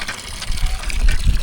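Water gushes in uneven surges from a newly installed hand pump near a mud fort in Hyderabad, splashing close and loud with low churning pulses as the handle is worked.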